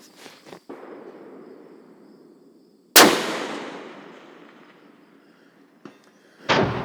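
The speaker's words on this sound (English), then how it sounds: "Let's see if we can't get us a first round hit at 770 yards." A loud, close rifle shot fired at a target 770 yards away through a 34mm scope, with a long, rolling echo that slowly fades. Small clicks and knocks sound before and after it.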